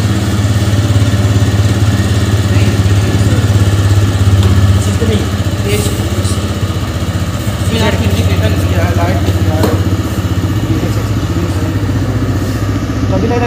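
A 2021 TVS Raider 125cc motorcycle engine runs steadily close by, a continuous low throbbing idle hum, while someone talks over it throughout.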